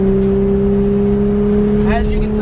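A Nissan 350Z held at full throttle in third gear, its engine a loud, steady drone that holds pitch rather than climbing, with a brief higher whine near the end and a person talking over it.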